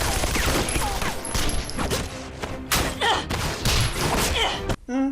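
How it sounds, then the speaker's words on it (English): Rapid bursts of loud gunfire crackle and pop in quick succession, a dense fusillade of shots with thuds, ending abruptly. "It's a hell of a lot of gunfire."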